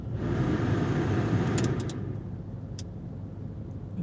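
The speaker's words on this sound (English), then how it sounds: "let me start the car up" A car engine starts and settles into a low idle inside a parked car on the windy North Norfolk coast, with a steady rumble and a few faint ticks and clicks.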